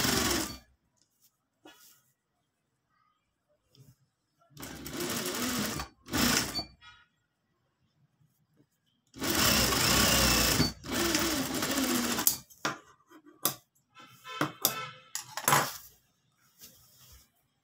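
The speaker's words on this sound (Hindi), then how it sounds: "डबल सिलाई" A sewing machine double-stitching the shoulder seam of a simple shirt, running in several bursts of steady mechanical whirring with pauses, then lighter clicks and handling noises.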